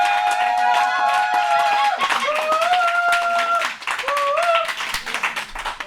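A church congregation claps loudly and cheers in worship, with rhythmic hand clapping under sustained shouted and sung voices that rise and fall throughout.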